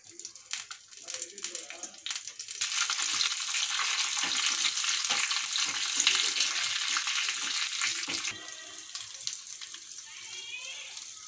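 Cumin, mustard seeds, green chillies and curry leaves tempering in hot oil, a loud rushing sizzle that flares up partway through and then settles, heard close with a voice speaking around it.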